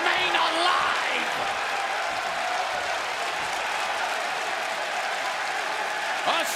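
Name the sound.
standing ovation from wrestling crowd in Phoenix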